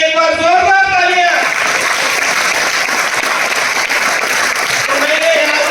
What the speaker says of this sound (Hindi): हमने अपने लिए एक बार जोरदार तालियां।